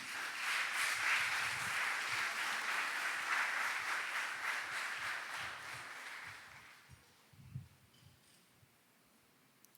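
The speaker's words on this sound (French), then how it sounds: "je vous demande de les applaudir chaudement" An audience at a nursing cap ceremony at the Institut Louis Pasteur applauds warmly, with dense steady clapping that fades out after about seven seconds, followed by a few scattered claps and quiet room noise.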